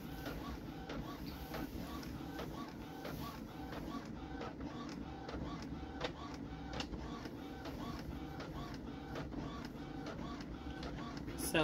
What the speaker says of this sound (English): All right, so we have it printing out.